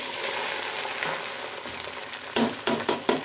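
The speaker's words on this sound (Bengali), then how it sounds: "এখানে একটু আদা রসুন ব্যবহার করলাম এটাকে একটু ভাজাভুজি করে নেই" Ginger and garlic frying in a pan in a home kitchen, a steady bright sizzle that turns into a few sharp, louder bursts of stirring and spattering toward the end, close up with no talk.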